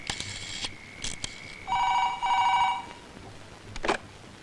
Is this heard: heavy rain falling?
no